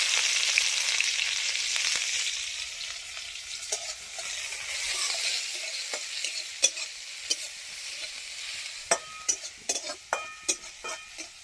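Cumin seeds, chopped green chili and ginger frying in mustard oil in a wok, a steady close sizzle that thins toward the end as sharp spatula scrapes and clinks punctuate it.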